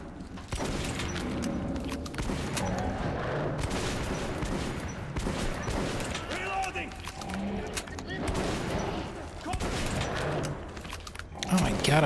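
Sustained gunfire in Metro 2033 Redux, dense bursts of shots with metallic mechanisms and booms, loud and continuous, mixed with game voices in the background.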